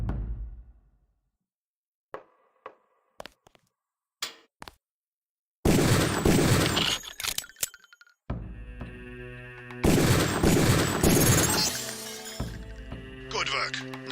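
Pistol shots fired at training targets in the game Deus Ex, a handful of sharp, separate gunshot cracks with glass-like shattering bursts and echoing clatter. A voice speaks between the shots.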